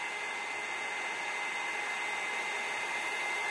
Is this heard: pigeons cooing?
no